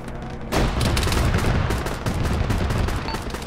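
Heavy gunfire and explosive tank shots in the military game Arma erupt abruptly after a brief quiet moment, then continue as dense, loud, overlapping bursts of battle noise.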